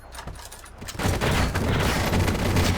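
Gunfire from the video game Counter-Strike: Source, a loud dense burst of shots and blasts that starts after a quieter opening second and keeps up continuously.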